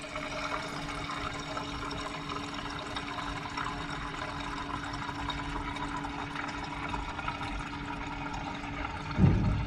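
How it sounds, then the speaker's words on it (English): Steady low whirring hum of a fuel lift pump running as it fills the surge tank of a K20-powered DC2 Integra racecar, constant and close, with a louder thump near the end. "So I can hear that the lift pump is now running, and we'll get you in close and hopefully you can hear that surge tank filling up"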